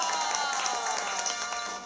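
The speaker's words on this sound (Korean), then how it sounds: "다시 한번 박수 주세요" Studio audience applause on a Korean TV variety show, a dense, steady wash of many hands clapping, fairly faint, tapering off at the very end.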